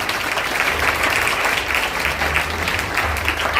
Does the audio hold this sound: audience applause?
yes